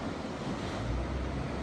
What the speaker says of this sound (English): there's another little churn area here that spouts up, but this one is not as active.